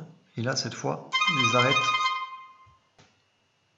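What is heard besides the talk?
telephone ringing during live recording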